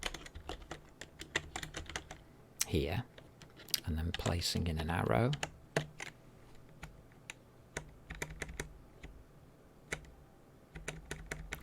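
Rapid clicking of a computer keyboard being typed on at close range, in uneven bursts with pauses, while a person talks over it in a couple of short stretches.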